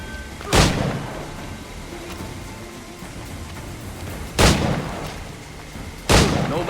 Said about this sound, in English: No man's immune to a pistol shot, I reckon.